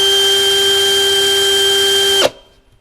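A Mensela ED-LX2 brushless cordless hammer drill runs unloaded with a loud, steady, high motor whine, close to the listener, then cuts off abruptly and spins down into quiet.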